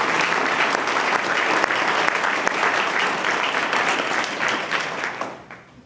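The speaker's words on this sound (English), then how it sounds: "Can we give them a round of applause," Warm, sustained applause from guests at a scholarship dinner, dense clapping that holds steady for several seconds before tapering off at the end.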